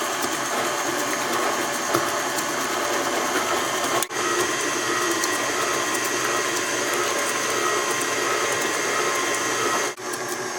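An electric mixer churns cookie dough after an egg has gone in, giving a loud, steady motorized whir with a brief dip in pitch at two points.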